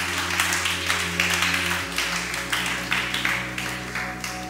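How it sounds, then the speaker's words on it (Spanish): Church congregation applauding during a worship service, a moderate wash of clapping with soft rhythmic pulses over sustained organ or keyboard chords. "Al que crea, dale ese aplauso grande al Rey."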